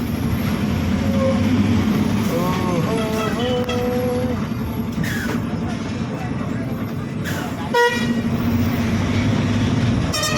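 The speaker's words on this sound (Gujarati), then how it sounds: "રેલગાડી બહુ લાંબી રેલગાડી છે ભાઈ." A long passenger train rumbles steadily past nearby with continuous rolling and clattering, a few faint horn-like tones and squeals over the din.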